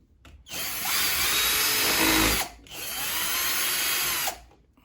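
Two long bursts of a power drill driving screws while installing a WE.LOCK electronic door lock, each run steady and close, separated by a short pause, with no talking.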